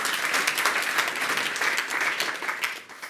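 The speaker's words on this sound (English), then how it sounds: "So give them an applause as well." Audience clapping at a last-mile delivery industry meetup: a few seconds of lively, even applause from a mid-sized crowd, gradually thinning toward the end.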